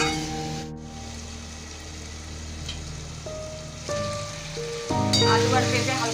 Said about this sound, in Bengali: এবারে আমি এটাকে সুন্দর একটু আলু পেঁপে একটু ভাজা ভাজা করে নেব।